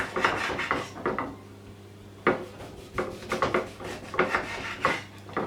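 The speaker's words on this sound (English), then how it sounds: "So just cut off a few slices." A knife cuts slices from a lemon on a wooden board, giving a series of close, rasping strokes with short scraping bursts and small knocks, and nobody speaks.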